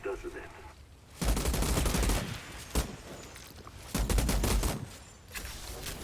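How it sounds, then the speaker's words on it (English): Pistol gunfire in the video game Valheim rings out in several loud bursts of rapid shots separated by short, quieter gaps over a low background. "Oh wow, the pistol's actually pretty decent."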